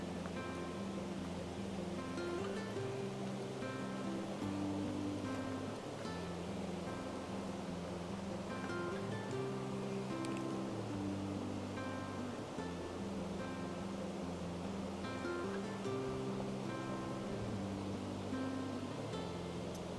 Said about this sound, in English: Looks like the river is a little bit low.